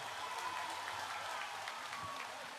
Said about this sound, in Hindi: और भी हमारे सम्मानित अतिथि यहाँ पर है उन सब की स्वागत में और एक जोर से तालियां हो जाए।